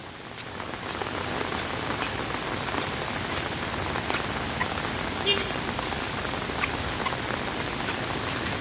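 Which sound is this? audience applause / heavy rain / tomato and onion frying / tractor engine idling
heavy rain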